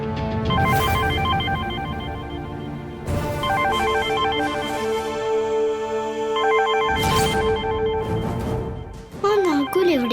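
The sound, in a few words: mobile phone ringtone ringing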